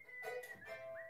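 A person whistles a song in a few short, clear sustained notes that rise and fall, close and fairly quiet.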